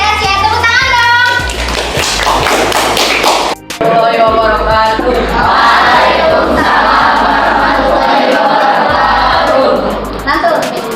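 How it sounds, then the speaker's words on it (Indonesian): Junior high school students in a classroom clap and cheer loudly together. Dense rattling applause mixes with excited children's voices and shouts, sustained and close throughout, with one brief dip. "Tepuk tangan dong."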